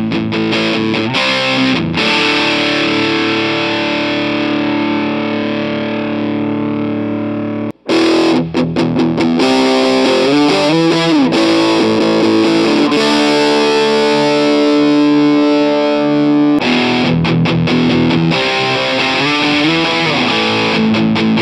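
High-gain electric guitar through Mooer micro preamps, heavily distorted and loud, with chugging riffs and sustained chords, a brief dropout near the middle, then more crunchy riffing to the end.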